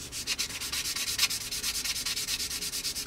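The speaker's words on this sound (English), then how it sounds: "Just coming in with a slightly newer skinny sanding sponge, just that's a bit coarser" Rapid back-and-forth rubbing of a coarse, skinny sanding sponge on a seam of a 1/48 scale plastic P-40N Warhawk model, a quick rhythmic scratchy hiss, close and fairly quiet.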